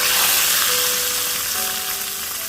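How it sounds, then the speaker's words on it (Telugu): Tempering of urad dal, mustard seeds, cumin, garlic cloves, dried chillies and curry leaves frying in oil for sambar, a loud dense crackling sizzle filling the whole stretch and easing slightly toward the end. "పోపు అయితే వేసుకున్నాను."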